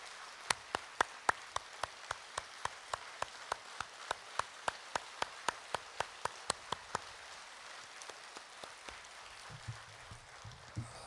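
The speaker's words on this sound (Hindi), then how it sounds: "सभी एक बार जोरदार तालियां बजाएंगे" Steady, rhythmic clapping in unison at a yoga session, sharp evenly spaced claps continuing for several seconds and fading slightly near the end.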